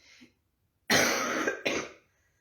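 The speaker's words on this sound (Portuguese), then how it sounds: "Hoje que me atacou um pouco de tosse" Two harsh coughs close together, fairly loud and near, the second shorter than the first, with quiet around them.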